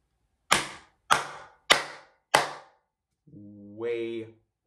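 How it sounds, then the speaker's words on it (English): Four loud, crisp hand claps with both hands moving together, evenly spaced and close up, followed by a brief voiced sound after the claps. "So that is how you clap your hands extremely loud."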